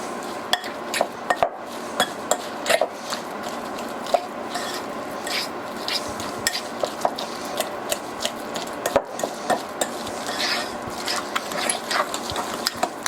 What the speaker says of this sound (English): half a teaspoon of ground nutmeg, just going to mix that just a tad bit